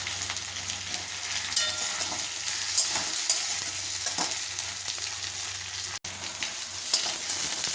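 Ground spices, ginger paste and raw banana pieces fry in a pan for a Bengali fish curry, producing an even close sizzle broken by occasional stirring scrapes and one sharp click.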